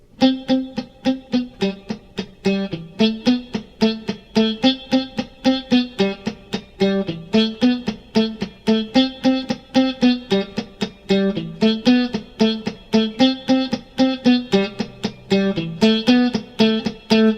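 Muted, choppy electric guitar strumming in a steady driving rhythm, tight percussive chugs with a slightly distorted tone, continuous and fairly loud without any voices.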